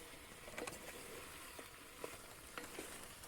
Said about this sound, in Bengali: তরকারি রান্না করতেছি দেখেন